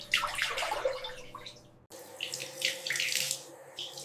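A tap runs at dawn during wudu ablution before Fajr prayer, water splashing steadily into a basin with a brief pause midway, close and continuous with no talk.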